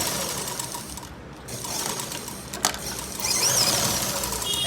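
A sewing machine stitches fabric for a pair of shorts, a steady close mechanical whir and rapid needle patter running throughout, with one brief pause and a sharp click partway, no talking.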